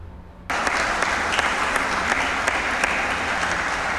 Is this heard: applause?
yes